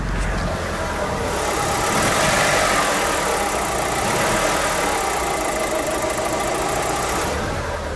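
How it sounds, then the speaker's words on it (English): A car engine idling roughly and misfiring from a faulty coil pack, a loud, close, steady but ragged knocking rumble that swells slightly and never settles into a smooth idle. "Not idling at all."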